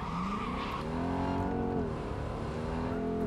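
A stolen police car drives through the streets of the video game Cyberpunk 2077, its engine droning with gliding pitch as it speeds up and eases off, loud and steady, with a tire skid mixed in.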